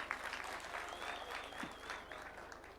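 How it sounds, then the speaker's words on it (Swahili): Applause for parastatal CEOs, directors and chairmen at a public event in Kenya, a steady crowd of clapping hands at moderate distance, continuous throughout with faint background voices. "Wapigiwe makofi jameni."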